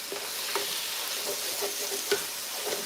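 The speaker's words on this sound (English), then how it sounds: "Okay, it's time to stir it around." Seasoned ground turkey taco meat sizzles steadily in a pan, with a few distinct scraping strokes of the spatula as it is stirred, close and continuous with no talking.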